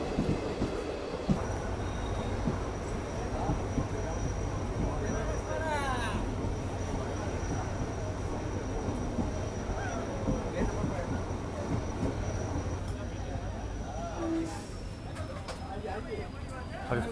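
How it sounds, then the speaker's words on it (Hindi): A meter gauge train at Veraval station rumbles continuously in a steady, close drone with faint squeals and clanks mixed in, while someone speaks over it. "मीटर गेज की ट्रेन देखने को मिल रही है फाइनली।"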